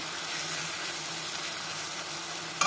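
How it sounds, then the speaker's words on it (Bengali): Spices sizzle steadily in a hot pan as they are fried down for a fish curry, with close, even crackling hiss throughout and a brief clink near the end. "মশলাগুলিকে কষিয়ে নিয়ে"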